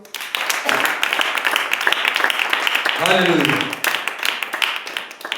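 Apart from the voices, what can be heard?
congregation applause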